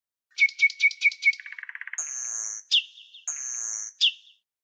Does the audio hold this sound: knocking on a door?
no